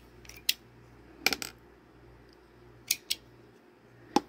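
Handy scissors being picked up and handled, giving a few short, sharp metallic clicks and snips spaced irregularly over a quiet background, with no voices.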